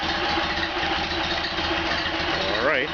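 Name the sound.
rebuilt Ford Model A engine starting and idling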